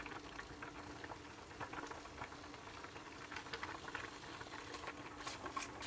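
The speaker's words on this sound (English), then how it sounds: "Okay, so this is frying nicely." Red onions fry quietly in a pan, a soft continuous crackle with scattered small pops, faint and steady throughout with no talking.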